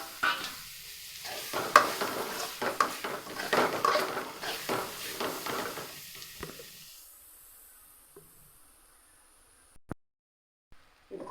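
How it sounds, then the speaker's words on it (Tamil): Meal maker gravy stirred in a pan on low heat makes busy scraping and sizzling with clatters of the spoon, then fades to near silence broken by a couple of sharp knocks. "இப்போ நம்ம அடி பிடிக்காத இந்த அளவுக்கு கலந்து எடுத்துக்கணும்"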